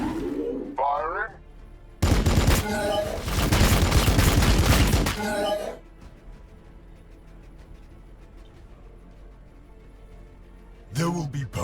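Units in the strategy game Battlesector, in a Blood Angels versus Tyranids match, fire their guns in a loud, dense volley lasting several seconds, with brief spoken voice lines before and after.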